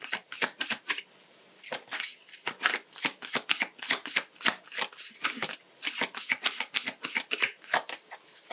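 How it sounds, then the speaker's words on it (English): A deck of self-care cards being shuffled, with quick riffling bursts repeating steadily and close up, separated by brief pauses, and no talking over them. "Let's pull a couple of self-care cards to see how you can best care for yourself this month."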